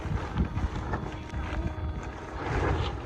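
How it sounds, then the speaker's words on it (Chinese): Strong evening wind in rural northeast China buffets a plastic-covered rice seedling greenhouse, producing a continuous low, gusty roar with rumbling surges that swell toward the end; no talk is heard. "刮大风倒是不重要，主要是这大棚受不了啊"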